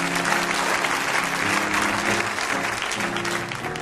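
A church congregation applauding during a sermon, a loud, steady wash of many hands clapping close by, sustained without pause.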